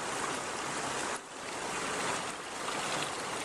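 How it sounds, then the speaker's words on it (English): Steady broadband rush of a waterfall nearby, constant and fairly loud with a brief dip in the middle, heard alone with no voices. "Yes, there's more waterfalls right there."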